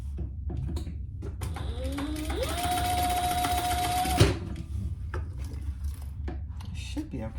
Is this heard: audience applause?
no